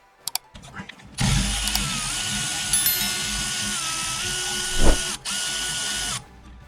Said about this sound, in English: Use a ratchet and a 7mm hex key to unscrew the guide pins. An electric wrench can make this task easier.